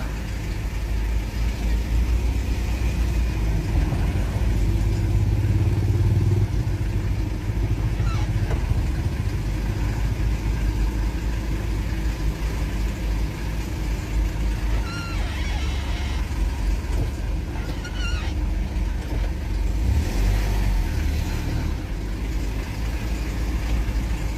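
Cars stand in a long traffic jam stretching about thirty-eight kilometres, a steady low rumble of idling engines with occasional passing vehicle noise, continuous and fairly loud throughout.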